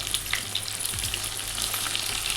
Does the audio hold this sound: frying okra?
yes